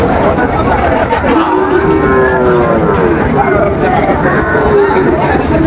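Sahiwal bulls moo a couple of times at the Ambari cattle market, long low calls rising out of a busy, noisy crowd with people talking throughout.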